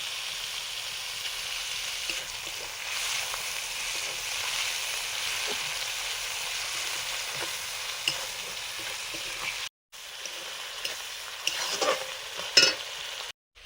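Black cumin and chopped tomato fry in hot oil for a pabda fish mustard curry, giving a steady close sizzle with stirring scrapes throughout and a brief pause near the end.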